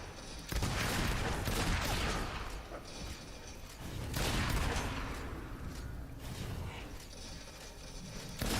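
Rapid gunfire bursts from a Fable II game battle, loud and dense in two long volleys separated by a brief lull, with mechanical clatter mixed in and no talk.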